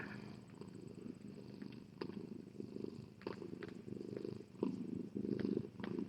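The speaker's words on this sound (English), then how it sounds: "He is purring a little bit." A cat purring softly and steadily at close range, with a low rhythmic rumble that pulses through the quiet.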